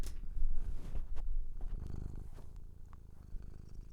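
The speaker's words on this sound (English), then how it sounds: "You're purring so loud" A cat purrs loudly and steadily up close, a continuous low rumbling rhythm with a few faint background noises.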